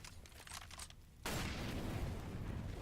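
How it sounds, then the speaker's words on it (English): Grenade blasts erupt in a Counter-Strike match, a quieter stretch of scattered bursts giving way abruptly to a dense, sustained roar of explosions and gunfire. "Grenades are landing thick and fast on the site."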